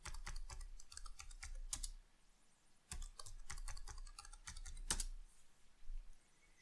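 A password is typed on a computer keyboard in rapid, close, clicky keystrokes with short pauses between bursts. There is no talk.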